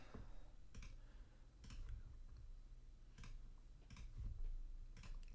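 Computer mouse clicks tapping through software screens during a client intake session, a handful of sharp, isolated clicks spaced irregularly over a quiet, faint room background.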